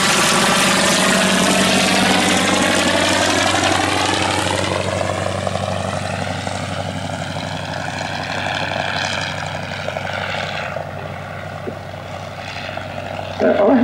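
A Fieseler Storch propeller aircraft engine drones loudly at an airshow, its pitch sweeping slowly as the plane passes, then easing toward a lower steady hum.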